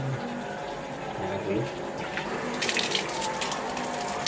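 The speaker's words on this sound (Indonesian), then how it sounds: "Ini Air mengalir." Tap water runs steadily in a continuous splashing hiss while a traditional kris dagger is washed with soap, with voices talking briefly over it.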